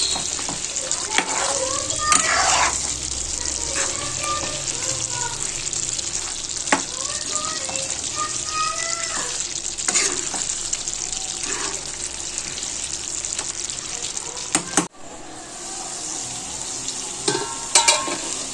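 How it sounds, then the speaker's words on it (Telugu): Chicken frying on medium flame in a pan sizzles steadily while a spoon scrapes and stirs it in repeated strokes, close and fairly loud, with a brief pause near the end. "అప్పుడు దాకా మనము ఫ్రై చేస్తూ ఉండాలి ఇలా కలుపుకుంటూ."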